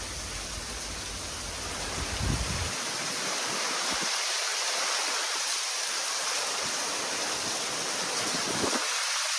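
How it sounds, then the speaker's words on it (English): Hurricane Milton's wind roars steadily through a Florida garden and neighborhood, a dense, loud rushing noise with gusts, likely mixed with pouring rain, no talking. "You can see my Hawaiian tea plants down by the street are really bending in the wind."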